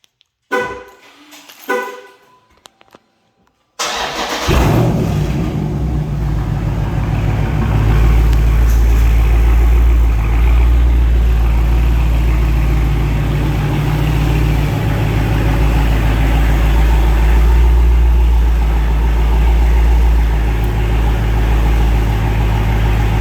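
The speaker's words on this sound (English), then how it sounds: "I'm gonna do a little cold start." A Dodge car makes a cold start after a few quiet clicks and knocks, its engine catching abruptly and roaring into a loud, steady idle that drones on nearby for about twenty seconds.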